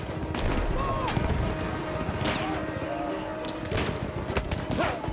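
Gunfire from a weapon in the World War I shooter Battlefield 1 crackles in a dense, continuous fusillade of shots. Scattered battle noise fills the mix, with a voice talking faintly over it.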